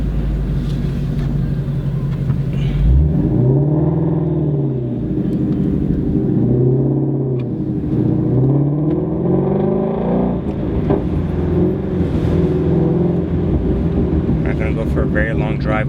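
A low-mileage Ferrari 550 out on a road drive, its engine a continuous deep rumble that rises and falls through several rev sweeps and gear changes, with a voice talking over the cabin noise.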